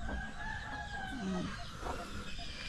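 Chickens cluck and call faintly against a noisy outdoor background on a farm in Ubon Ratchathani, Thailand, with a brief low rooster-like cry in the middle.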